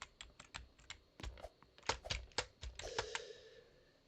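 Keys clicking on a computer keyboard, a string of sharp close taps and thunks in an irregular rhythm, some louder presses standing out, quiet with no talking.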